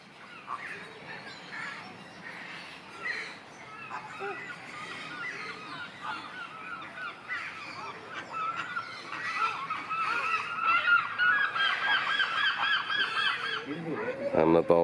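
Flamingos in a park enclosure honk continuously in a noisy, overlapping chorus that builds in loudness toward the end, with a dense goose-like clamor throughout.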